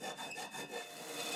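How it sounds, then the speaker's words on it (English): Metal being filed by hand with a file in a warm workshop, a steady rasping back-and-forth with regular strokes, close and fairly loud, no talking. "I know, I'll use a file."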